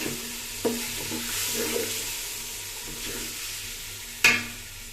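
Marinated fish sautéing in a pan for chicken biryani, a steady low sizzle with occasional stirring clinks and one sharp clatter near the end, no talk.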